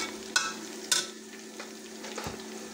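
A pan of garlic, ginger and onion sizzles gently for a village-style chicken pota kaleji fry, two sharp spoon scrapes early on and a lighter stir later over the constant hiss, no voices.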